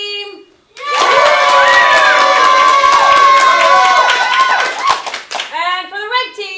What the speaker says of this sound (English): Let's see, cheer for the blue team.